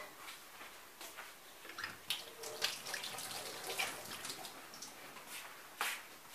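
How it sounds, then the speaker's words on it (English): Tap water runs steadily and softly into a sink as hands are washed, with splashing that rises and falls under the flow. "So let me wash my hands."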